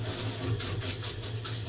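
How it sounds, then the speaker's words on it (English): Water pours over a small child during bath time, a steady, close rush and splash of running water heard alone without a break. "Just let me rinse you off."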